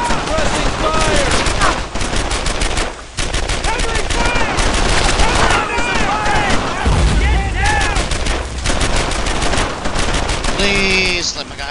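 Dense, continuous gunfire in the World War II shooter Brothers in Arms: Earned in Blood, with rapid machine-gun bursts and rifle shots crackling nonstop at close range while soldiers shout over the battle throughout.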